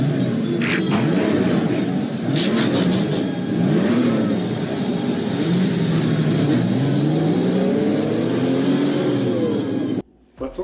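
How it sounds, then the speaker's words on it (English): Car engines rev and rise in pitch in several overlapping surges, a loud mid-range growl that climbs and falls, then cuts off abruptly near the end. "Autobots, start your engines."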